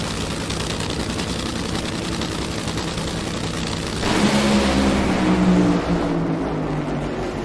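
A nitro Funny Car makes a drag racing qualifying run at NHRA Phoenix, a loud, harsh crackling engine roar that surges and then fades as the car pulls away.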